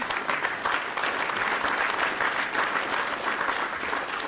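Audience applause at a press conference held at an automotive dealership, a steady wash of clapping from many hands that stays fairly loud and continuous, with no voice on top.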